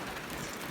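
Rain falls steadily on a rural cassava-planting field, making a continuous broadband hiss with no voices.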